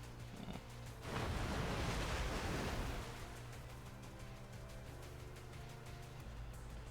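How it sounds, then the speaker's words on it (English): Water rushes in from a video game scene, a broad roaring wash that swells loud for a couple of seconds and then settles into a steady lower rumble. "The water is coming this way."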